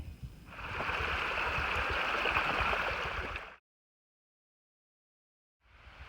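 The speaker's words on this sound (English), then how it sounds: "We got the waterfall in the background." Steady broadband rush of a waterfall in the woods at a campsite, continuous for about three seconds before cutting to silence, then resuming at the end; no talk.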